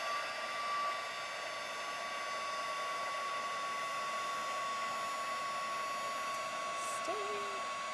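A heat tool blows steadily and unbroken while it sets embossing powder, a constant fan-like whir at close range with no talking over it.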